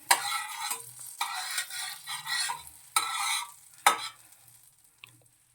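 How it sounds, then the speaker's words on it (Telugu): A bread omelette fries in a pan as the egg is spread across it: loud, close bursts of sizzling and scraping that come and go in waves before fading to quiet. "ప్యాన్కి మొత్తం స్ప్రెడ్ చేయి."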